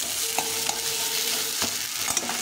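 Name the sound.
potatoes frying with spices in a pan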